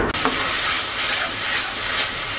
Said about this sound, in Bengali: টমেটো পেস্টটা দিয়ে দিলাম, এবার ভালো করে ভেজে নেব।